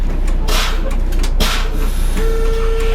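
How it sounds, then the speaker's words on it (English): Air brakes on a parked tour coach pumped down during a pre-trip air brake test, with repeated hissing bursts of released air over a steady idling engine rumble, followed by a sustained warning tone. "now pump my service brake down"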